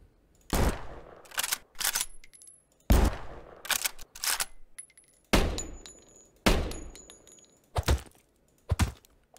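Video game weapon gunfire: several separate loud, punchy shots and short bursts, each followed by a decaying tail, with brief silences between them and no talk.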